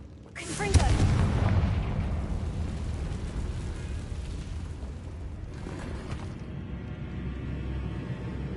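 Confringo fire spell from Hogwarts Legacy erupting in a loud blast that rolls into a long, sustained roaring rumble, with a second swell near the end.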